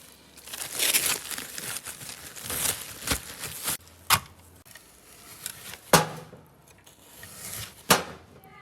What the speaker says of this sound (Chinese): 看冻得硬邦邦的，现在开始切片